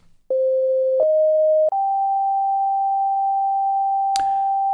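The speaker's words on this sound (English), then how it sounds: "When I play different notes, the frequency of the note changes." Pure synthesized sine tones step up through three successive pitches, each held steadily and loud, the last sustained longest, with a brief sharp click near the end and no voices.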